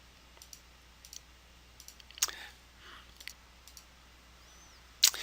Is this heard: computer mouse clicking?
yes